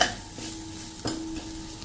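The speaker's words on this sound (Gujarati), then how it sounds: "આ બધું નાખી અને એને આપણે આ જ રીતે હલાવી લેશું મસાલા સાથે" Soft sizzling of spices with cumin powder in a pan, with a few stirring scrapes and light clinks, fairly quiet and close, with no voices.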